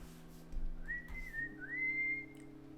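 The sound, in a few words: person whistling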